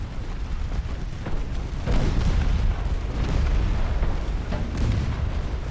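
2.2-inch naval guns in an Ultimate Admiral Dreadnoughts battle fire in a steady, dense rumble of overlapping booms. The shots are loud and continuous, with no talking over them.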